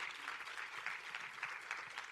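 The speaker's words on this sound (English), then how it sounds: "I think it deserves a round of applause." A steady burst of applause from a modest crowd at a business pitch competition, even clapping throughout with no voices over it.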